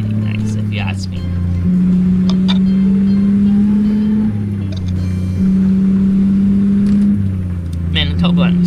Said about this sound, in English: Man, the turbo on this truck sounds so good.